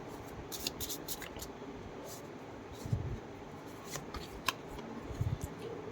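Tarot cards being drawn and shuffled by hand: soft, close papery slides and flicks with a few sharper snaps, quiet against a faint room hiss.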